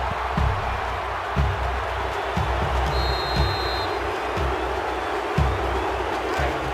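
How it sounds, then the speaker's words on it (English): A dense stadium crowd roars in NCAA Football 2005, a steady wash of cheering with rhythmic low thumps and a brief whistle, filling the background throughout. "This sellout crowd is really making a difference now as these guys can't even call the play"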